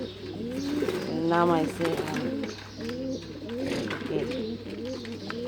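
Pigeons cooing in repeated soft, throaty bursts close by, with a voice briefly talking over them and a steady low hum underneath.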